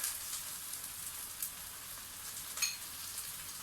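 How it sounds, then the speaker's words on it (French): Liquid mixture with Indian saffron (turmeric) poured over spinach and tomato, a soft continuous hiss and patter like light rain, with a couple of small splashy accents and no talking. "Et verser sur les épinards et la tomate."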